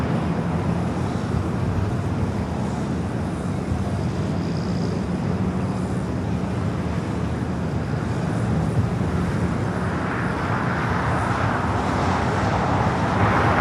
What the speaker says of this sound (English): A330 Neo, number 2 for arrival here on the south.